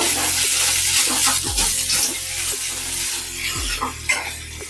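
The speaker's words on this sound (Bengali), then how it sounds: "এখন নেড়েচেড়ে ভেজে নেব।" Grated potato stirred and fried in a pan with salt and turmeric, a steady close sizzle with repeated spatula scrapes and stirs throughout, no talking.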